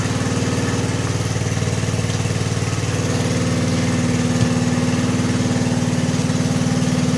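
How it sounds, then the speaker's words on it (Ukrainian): An angle grinder powered by a Kirsch petrol generator whirs at a steady, unchanging pitch with a constant buzzing hum, close and loud throughout, without a break. "Давайте попробуємо спалити болгарку."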